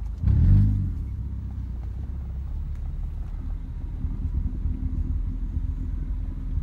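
A Honda Civic with its exhaust tailpipe tip removed gives a brief louder rumble at the start, then settles into a deep, steady idle drone close by, with no talking.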